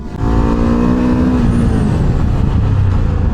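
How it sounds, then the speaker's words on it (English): Ducati Hypermotard V2 motorcycle braking hard from 90 km/h: a loud, steady engine and road roar with a falling tone as the bike decelerates, close and continuous without speech. "let's try a good front brake at 90 kilometers per hour"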